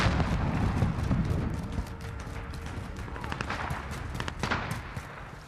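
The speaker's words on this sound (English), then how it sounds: "Cruise missile go for launch." In Call of Duty Modern Warfare, a cruise missile launches and strikes with a continuous roaring rumble and dense blasts, loud and sustained throughout with no speech.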